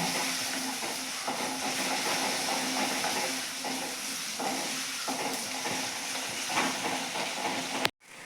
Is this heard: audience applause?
no